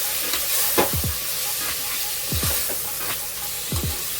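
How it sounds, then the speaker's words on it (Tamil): Chili powder, garam masala and rock salt being stirred into a hot cooking pot for Ramadan nombu kanji; repeated scraping strokes over a steady sizzle, close and moderately loud. "இப்போ எல்லாத்தையுமே ஒரு மிக்ஸ் கொடுத்துடலாம்"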